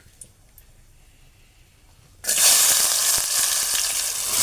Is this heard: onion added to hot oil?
yes